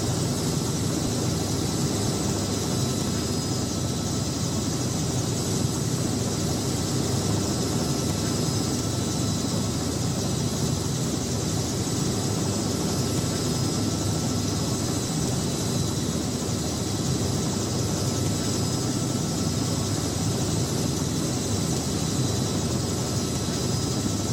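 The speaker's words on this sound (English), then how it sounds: "Now I'm going to land like your average helicopter pilot." A landing helicopter in the Prepar3D v5 flight simulator: a steady, dense rotor and engine roar drones on without pause, loud and unchanging throughout.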